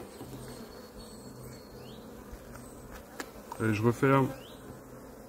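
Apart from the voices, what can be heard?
honey bees buzzing at an open beehive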